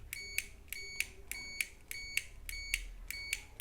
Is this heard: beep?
yes